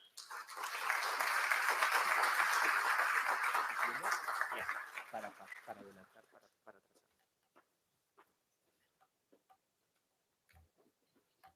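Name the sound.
audience applause welcoming speaker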